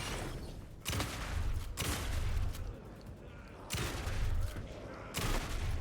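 Gunfire in the survival horror game Alan Wake 2, loud bursts of shots arriving in four clusters with short gaps between them, boomy and close.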